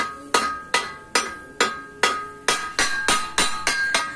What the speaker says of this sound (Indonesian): Harus dipalu-palu ini.